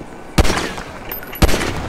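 Two sharp video game gunshots in FiveM about a second apart, each a loud broadband crack followed by a brief ringing decay, with no talking.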